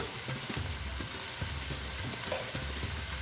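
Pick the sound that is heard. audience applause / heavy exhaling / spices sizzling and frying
spices sizzling and frying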